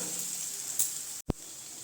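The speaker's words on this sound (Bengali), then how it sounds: "দিয়ে আলুটা আমি এখন ভালো করে ভেজে নেব লাল করে" Potatoes seasoned with turmeric and salt fry in a pan for a Bengali paat pata curry, giving a steady, close sizzling hiss broken by a brief stir or clatter near the end.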